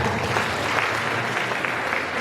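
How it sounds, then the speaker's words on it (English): School audience clapping to thank the food department staff at a gathering, a brief, dense, continuous burst of applause from a large crowd, fairly close and even throughout. "let's clap for them and thank them"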